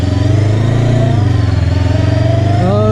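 A Gaokin Storr 500 motorcycle engine revs up to around 5000 rpm, a loud, steady, close-up drone with rising harmonics near the end, heard alone without speech.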